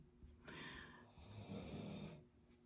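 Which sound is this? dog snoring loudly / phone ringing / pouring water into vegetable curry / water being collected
dog snoring loudly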